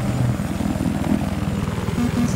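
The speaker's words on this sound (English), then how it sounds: "Enemy chopper!" An enemy helicopter in Battlefield 4: rotor thumps in a rapid, steady rhythm with a droning engine hum, loud and close, no voices.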